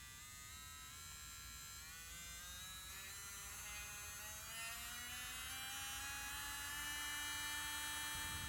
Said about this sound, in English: I'm going to go ahead and see how quiet this e-file is.